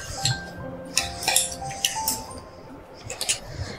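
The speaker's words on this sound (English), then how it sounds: "After grinding, I'm taking out this mixture in the bowl." Ground biscuit mixture scraped and tipped from a grinder jar into a bowl at home, giving a string of light clinks, taps and rattles of container against bowl over faint background hum.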